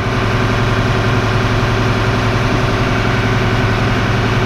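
A crop sprayer's engine runs steadily at idle as tank filling begins, a loud, constant low mechanical drone with no pauses or other sounds.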